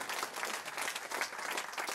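Audience at a French public political meeting applauding, dense continuous clapping held at moderate distance for a couple of seconds with no voices over it.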